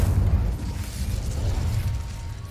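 Incendio fire spell cast in Hogwarts Legacy on PC, a dense low rumbling burst of flame that stays loud and steady for a couple of seconds with no voices over it.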